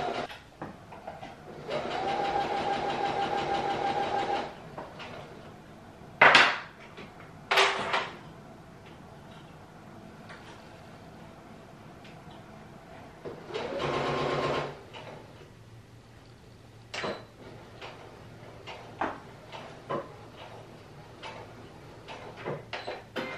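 Home sewing machine running a back stitch in stop-and-go bursts: a few seconds of steady mechanical whirring, a pause, a sharp knock or two, then another shorter run amid quiet room noise.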